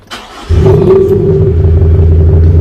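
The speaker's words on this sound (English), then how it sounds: "let me just start it up and show you, because this completely transforms the way the vehicle sounds and drives" A 2021 Isuzu D-Max fitted with a sound enhancer starts up with a sudden loud catch after a brief pause, then settles into a deep, close, steady engine rumble.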